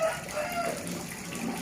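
A rooster crows in a farmyard, a drawn-out call at moderate distance over steady outdoor background noise.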